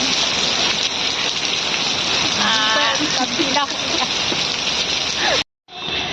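Heavy rain pours in a continuous loud hiss with dense patter on surfaces, and faint voices and a brief chirp surface beneath it before a sudden short cut near the end.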